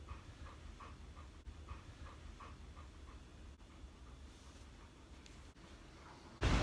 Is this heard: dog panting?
yes